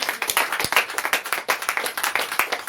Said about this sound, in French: On acclame très fort le Seigneur.